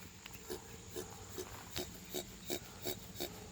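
Toy moo cow from a garage sale with its mechanism still working, giving a series of short regular squeaky animal-like calls, about eight in quick succession, faint and close over light background noise.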